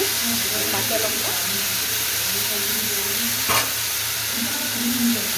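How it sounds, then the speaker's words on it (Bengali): Green chillies sizzle in hot oil in a pan, a steady, close frying hiss with occasional stirring scrapes and pops, while a person talks over it. "গরম দিয়ে দিলাম এখানে কাঁচা লঙ্কা।"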